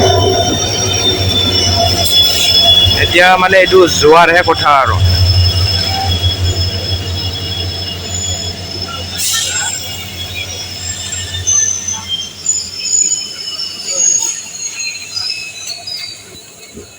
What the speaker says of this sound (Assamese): আমাৰ এইটো ট্ৰেইনটো আহি পাইছে এতিয়া